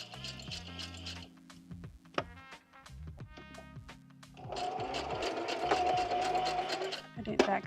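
A sewing machine stitches through envelopes for a junk journal, running in short bursts at first and then in one longer steady whir, with faint talk in the background.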